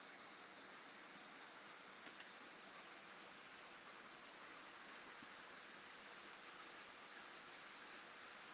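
A steady rushing rumble of a model train rolling along its track, continuous and fairly loud, with a faint hiss throughout and no voices.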